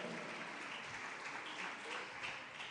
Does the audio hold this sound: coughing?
no